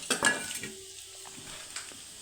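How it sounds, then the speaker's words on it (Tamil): Chillies and chutney ingredients dry-roasting in a pan, with a few soft stirring scrapes and clinks near the start, then a quiet, low sizzle. "சட்னிக்கு எல்லாமே போட்டு வறுத்து வச்சுக்கிறேன்."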